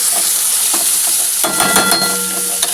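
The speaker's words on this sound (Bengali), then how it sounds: "চলো এখন আস্তে আস্তে উচ্ছে ভাজাটা হোক" Bitter gourd (uchhe) fries loudly in a pan with a steady sizzle and a clear rattle of stirring. A louder burst of scraping and frying noise comes in about halfway through.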